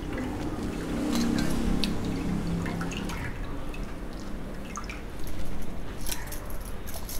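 Tamarind being dissolved and squeezed by hand in water for a fenugreek gravy, close wet squishing and dripping sounds in soft irregular bursts, fairly quiet throughout.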